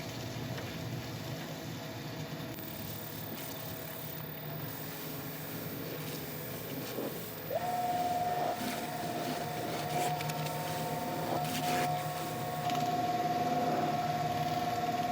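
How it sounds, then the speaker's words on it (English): A wood lathe spins a thuya burl while finish is buffed in with a cloth, a steady motor hum with a whining tone that rises as the speed is built up partway through. "I'm going to put it on while the lathe is spinning, just saturate the surface and then get a dry cloth, build up the speed and start buffing it in."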